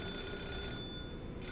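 A telephone bell rings in an indoor room, one sustained metallic trill that stops briefly near the end and resumes.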